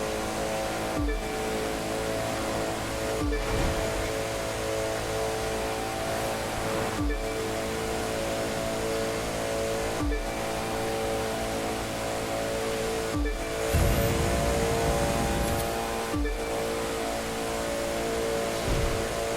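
Hypercar cruising down a straight motorway in The Crew 2, a steady sustained engine and road drone with faint periodic thumps, no talking.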